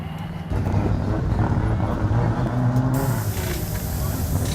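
A race car circling a track, its engine a steady loud drone that changes pitch as the driver brakes and powers out of a corner, with a voice talking over it.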